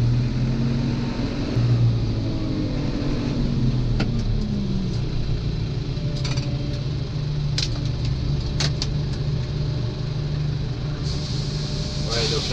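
A tractor engine starts and settles into a steady low rumble during a corn harvest, running loud and continuous with a few clicks and clanks over it.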